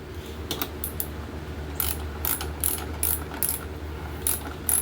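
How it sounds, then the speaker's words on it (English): A ratcheting socket wrench tightens the bolt on the broken left front wheel of a Toro Recycler 22-inch self-propelled mower, giving several short bursts of quick close clicks with pauses between them and no talking. "Get my socket wrench."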